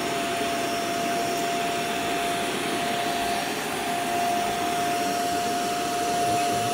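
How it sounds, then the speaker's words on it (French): A Proscenic P11 cordless stick vacuum with mop attachment runs over a floor in normal mode, a steady whirring motor with a constant high whine, moderately loud and unbroken, with no talking. "on va passer l'aspirateur et en même temps la serpillière"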